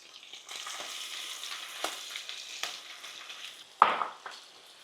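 Red curry paste is stirred into pork belly curry in a hot pan, a soft, steady sizzle with intermittent scraping stir strokes and one sharper clatter near the end.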